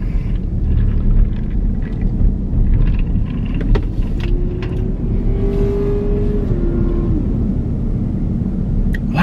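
A single car drives past outdoors, its engine rumble rising through the middle of the clip and fading away against steady low background noise.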